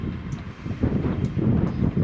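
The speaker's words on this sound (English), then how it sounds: "I can hear an IET departing as well." An IET train departs beyond a wall at Didcot Railway Centre, a low steady rumble that swells slightly, distant and windy with no talk.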